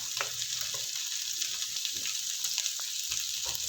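Beef fries in a pan with browned onions and garlic for a beef and cauliflower stir fry, a soft, continuous sizzle with occasional light stirring clicks and no voices.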